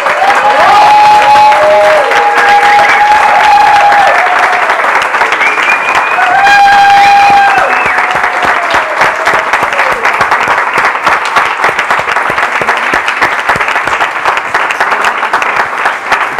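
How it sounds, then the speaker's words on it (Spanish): Warm, sustained applause from an audience at a book presentation fills the room, dense and loud throughout, with brief tonal notes rising above the clapping near the start. "yo pido un aplauso muy cálido para Cristina"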